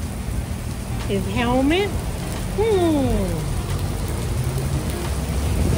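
Steady rain hisses close by on a motorcycle trip as someone speaks briefly over it, the downpour continuing throughout.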